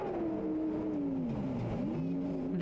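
A car engine revs in a radio advertisement, its pitch climbing steadily and then dipping and rising again over a steady wash of background noise, with no voices.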